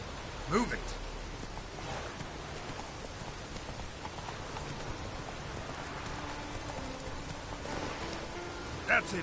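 Rain pours steadily in The Witcher 3 video game, a dense even hiss of drops on surfaces, with brief tonal blips near the start and end.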